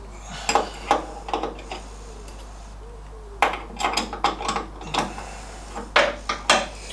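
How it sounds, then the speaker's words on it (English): A wrench clicks and clanks in short metallic bursts while tightening the nut on an MGB suspension link, with pauses between the groups of clicks. "then we just got to tighten up the nut on the link there"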